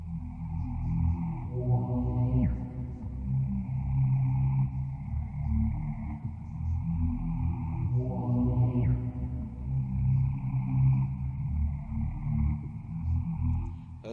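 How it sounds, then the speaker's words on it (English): A deep sub bass line from a trap beat made in Mixcraft 9 rumbles in sustained low notes, looping with higher synth tones that slide downward about every six seconds, with no voices. "So then I added the sub bass, which sounds like this."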